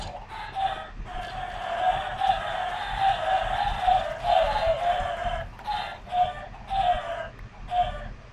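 Minecraft chickens in a video-game chicken farm cluck in a dense, steady chorus of overlapping bird calls, close and continuous, with short breaks throughout.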